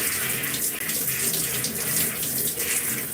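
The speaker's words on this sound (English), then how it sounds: "Right now I am just rinsing the product from my hair" Running water from a shower or tap pours steadily through hair as product is rinsed out, a continuous close hiss and splash with no pauses.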